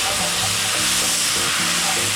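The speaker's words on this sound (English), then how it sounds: "And we're just sauteing this down, as you guys can see." Onions sauté in a pan for a French onion pot roast, giving a steady, loud, close sizzle and hiss that runs unbroken with no talk over it.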